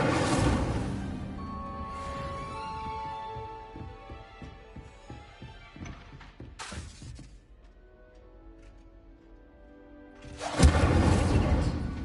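Incendio fire spells cast in Hogwarts Legacy, several bursts of whooshing flame with booming impacts, a rapid crackling sequence in the middle and a loud final burst at the end.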